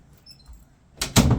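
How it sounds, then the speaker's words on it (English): A bathroom door is closed indoors, giving two quick, solid knocks close by as it swings shut and latches, after a quiet moment of faint rustling. "Let me close this damn door."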